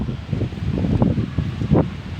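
Steady wind gusting across the microphone with leaves of fruit trees and garden plants rustling, a continuous low rushing noise that swells briefly in a few places.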